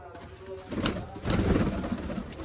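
Soft, low cooing of pigeons nearby, a short burst of throaty calls with a little rustling mixed in.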